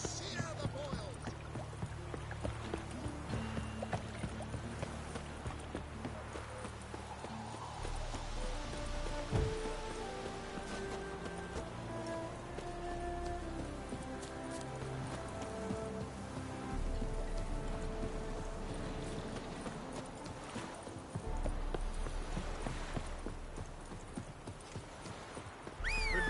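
Horse hooves clip-clop in a steady galloping rhythm in the video game The Witcher 3, with occasional whinnying, light rain and game music underneath, fairly faint overall.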